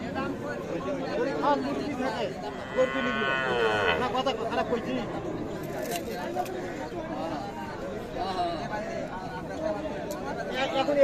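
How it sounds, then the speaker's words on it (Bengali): A Sahiwal breed calf and cows at a cattle market, with one drawn-out moo rising partway through, heard under steady nearby talking and background crowd chatter. "আমরা এখানে দেখছি আরো একটি শাহিওয়াল জাতের সার বাছুর"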